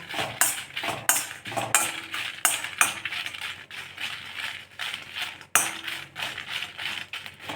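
Whole spices dry roasted in a pan for homemade garam masala, sharp rattling scrapes and clinks of spoon and spices against metal in uneven bursts, close and clear with no talking.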